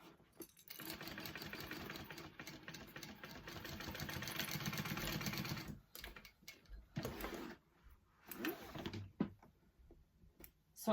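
A sewing machine runs a line of stitching on a tote bag, a steady close mechanical whir for several seconds, then stops and restarts in shorter bursts with small clicks of handling between.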